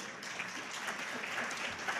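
An audience claps at a prayer breakfast, a steady, fairly faint wash of many hands with no clear individual claps, continuing evenly for the whole stretch.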